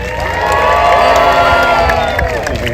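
Street-performance crowd at a busker festival in Port Credit cheering and whooping with clapping underneath, a loud, close, sustained burst of outdoor audience noise.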